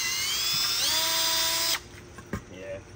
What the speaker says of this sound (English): So I'm just gonna clean this up really quick with a drill with these like wire brush attachments